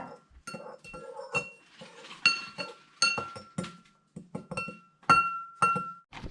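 A utensil clinks against a bowl in irregular bright taps while something is stirred, close and fairly quiet, with short pauses between strikes.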